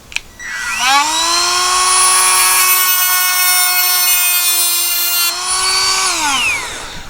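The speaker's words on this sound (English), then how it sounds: "So we'll just cut it with this cutoff wheel, and it should cut it fairly smooth." A cutoff wheel spins up with a high rising whine, then grinds steadily through a throttle barrel nut on a dune buggy, the loud tonal scream holding several seconds before winding down.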